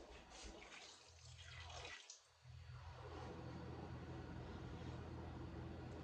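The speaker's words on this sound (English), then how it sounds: "now we are going to add a cup and a half of water." Water poured into a pot of homemade peach jam, a steady splashing pour that runs the length of the clip with one brief dip midway, fairly close and without talk.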